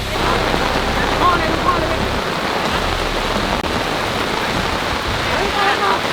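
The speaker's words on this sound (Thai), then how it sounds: "ตอนนี้คือแบบว่าฝนตกหนักมากนะ แบบ พื้นน้ำท่วมแล้วตอนนี้" Heavy rain pours down hard and steadily at a home under construction, the ground already flooding with water. A loud, continuous wash of rainfall fills the whole stretch, with voices faintly audible beneath it.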